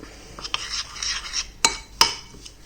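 A utensil stirs shredded coconut into melted chocolate in a bowl, with soft scraping strokes and a few sharp clinks against the bowl's side, close and fairly quiet.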